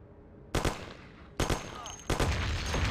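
Gunfire in the video game Mafia, three sharp loud bursts of rapid shots about a second apart, each cracking suddenly over a low hum of game background.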